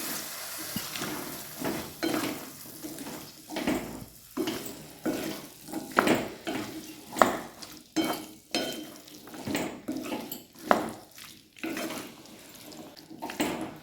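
A spoon stirring soaked carrots into a masala gravy in a pan for a Marathi-style carrot vegetable dish: repeated scraping strokes with a soft sizzle, in a steady rhythm of distinct bursts, close and moderately loud, with no talking.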